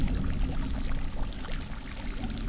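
River water flows as a continuous rushing, pouring wash with a low rumble and bubbly splashes, steady and fairly loud from start to finish, used as a sound effect in a comic dub.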